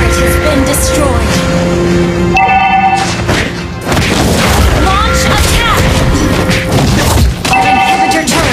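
Turret destruction in Mobile Legends, with loud game booms and crashing impacts layered under announcer voice lines, continuous and dense throughout.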